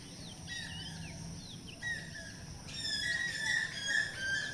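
Birds call outdoors near a pond where fish are being fed on a summer afternoon, faint chirps and short whistled calls repeating over a soft background hiss.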